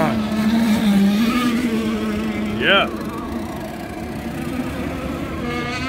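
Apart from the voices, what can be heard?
radio-controlled racing boats running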